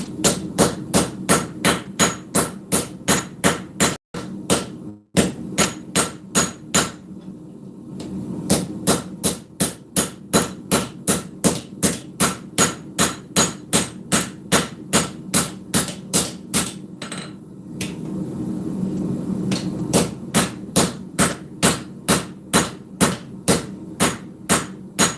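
Cross peen hammer blows shaping a full integral knife at the forge, ringing out in rapid, steady runs of sharp metallic strikes, close and loud, broken by brief pauses.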